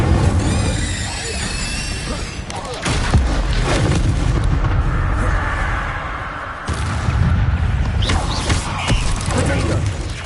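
Incendio fire spell cast in Hogwarts Legacy, a loud roaring burst of flame and booming impacts that swell, drop away and flare up again, dense and close throughout.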